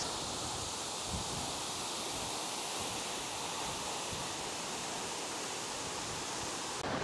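Water from a small cascade near Laukea waterfall in Nuwakot pours in a steady, broadband rush, even and unbroken throughout, with no voices.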